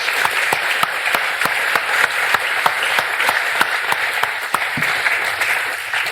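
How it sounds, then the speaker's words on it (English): An audience applauding after a reading of Riddley Walker, a steady, fairly loud clatter of many hands with a few sharp, rhythmic claps standing out at a regular pace throughout, and no talk. "I think we'll have a round of applause for that"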